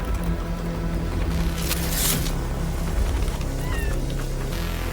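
A cat meows in a video game, several short meows rising above a busy, noisy game soundtrack and background rumble, with no speech over it.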